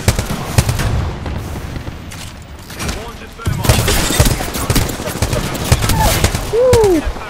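Automatic weapon hip-fired in Apex Legends, a ranked arena match, rattling off in dense rapid bursts over a busy, noisy mix with talk mixed in.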